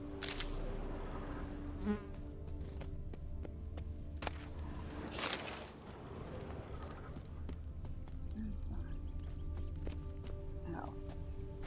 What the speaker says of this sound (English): Don't mess with bees, man.